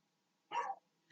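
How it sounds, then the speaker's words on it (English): A dog barks twice, a loud close bark followed by a second one cut off at the end, with no talk over it. "Fucking dog."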